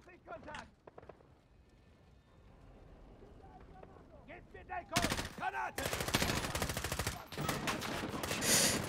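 Bursts of automatic gunfire and rapid shots from the Call of Duty Modern Warfare campaign fill the second half, loud and dense, after quieter game ambience and scattered sounds, with someone talking over it.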